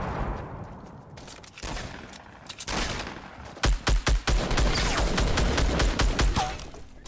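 Video-game gunfire crackles in irregular bursts of sharp shots, some sparse and some clustered, loud and close with several heavy reports near the middle; no speech is heard.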